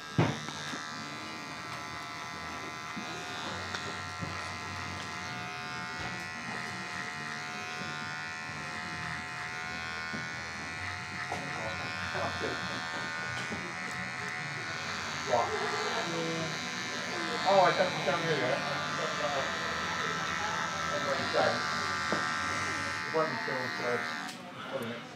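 Hair clippers fitted with a grade two guard buzz steadily through a barbershop trim, a close electric hum running beneath continuous talking.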